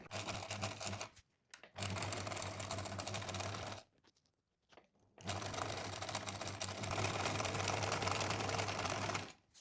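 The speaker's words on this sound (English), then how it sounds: "I'm starting to close the edge, and at the start and at the end I'm doing a few back stitches" Sewing machine stitching a fabric scrunchie edge with back stitches: steady loud mechanical whirring in bursts, with brief pauses between runs, close and alone.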